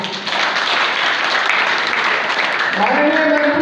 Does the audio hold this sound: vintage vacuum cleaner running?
no